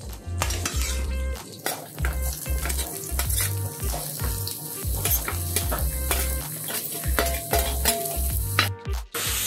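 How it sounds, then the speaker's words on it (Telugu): Raw jackfruit pieces fry in oil in a pan for a wedding-style biryani, with steady sizzling close by and frequent scraping and clinking as a utensil stirs them. "ఈ ఆయిల్ వేసుకుని ఫ్రై చేసుకోవాలండి."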